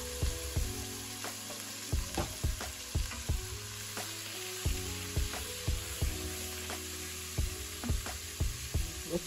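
Vegetables sizzle in the same pan used to sear beef short ribs, a continuous frying hiss punctuated by regular thumps and knocks of stirring against the pan, close by.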